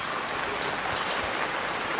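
Steady rain patters down without a break, a dense hiss of drops striking a surface close by, with no voices.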